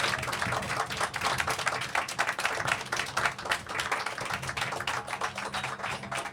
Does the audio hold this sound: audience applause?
yes